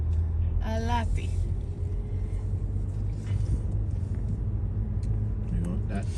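A truck passes on a street in Tarpon Springs, Florida, its steady low engine rumble running throughout under nearby voices talking.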